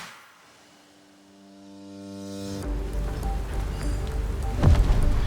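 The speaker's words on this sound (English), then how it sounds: "the rain is falling in the Japanese mountains." Steady rain falls over the Japanese mountains during Rally Japan, arriving as a dense, loud broadband hiss after a rising tonal hum fades out midway, then continuing unbroken through the rest with no voices.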